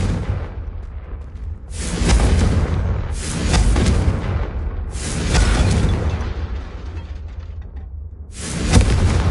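Confringo fire spell blasts in Hogwarts Legacy, four heavy booming explosions each rolling for about a second and a half before fading, loud and close with no talk.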